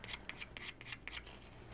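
Short repeated strokes of abrasive rubbing across a hammered copper sweater pin, a steady scratchy rasp of about eight to ten passes with no talk.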